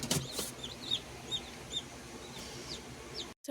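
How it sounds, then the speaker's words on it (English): Newly hatched chicks and a hen in a coop: repeated high, thin peeping chirps from the chicks over a low background murmur and soft clucking, fairly quiet and close, with no talking. "Lots of pretty lovely chicks."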